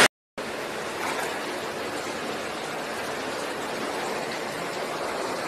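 Knee-deep flash floodwater rushing around a house at midnight in Lagoa Vermelha, Brazil, a constant, dense roar of flowing water that begins after a brief gap and holds steady with no voices.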